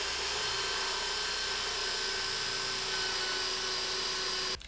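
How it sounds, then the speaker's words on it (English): A drill bores holes along the top edge of a sliding CNC enclosure for a Shapeoko Pro XXL, a loud, continuous high whine held close up that cuts off abruptly at the end. "just going to go in here and drill several of these along the top edge"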